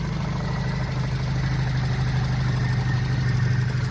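A small car's freshly cleaned engine idles steadily and close, a smooth even low rumble with a regular pulse for several seconds and no voices.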